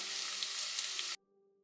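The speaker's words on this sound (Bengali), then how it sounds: "পেঁয়াজটাকে আমি গোল্ডেন ব্রাউন করে একটু ভেজে নেব।" Chopped onions fry in oil in a pan with a loud, steady hiss of sizzling for about a second before the sound cuts off abruptly, leaving only a faint low hum.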